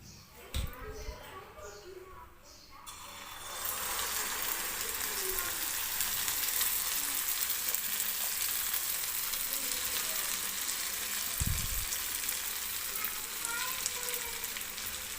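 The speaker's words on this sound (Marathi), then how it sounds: "आणि आता हे तयार केलेलं जे बॅटर आहे ते आपल्याला टाकून घ्यायचं आहे." Urad dal and rice batter poured into hot oil, starting with a clatter and quiet talk, then a loud steady sizzle and crackle of frying that continues evenly to the end.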